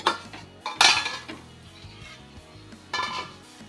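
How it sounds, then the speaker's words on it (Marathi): A lid is lifted off a pan cooking bajra dhapate with a clear metallic clank. Lighter clinks and scrapes of cookware follow, then another clatter, over a faint sizzle. "आता आपण काढूया झाकण"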